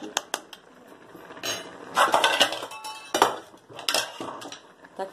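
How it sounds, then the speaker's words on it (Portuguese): A lid goes onto a metal cooking pot while a simple lunch is made, with clinks and scraping metal-on-metal clatter in a few close, moderately loud bursts. "Aí tampa minha panela. Vou tampar ela."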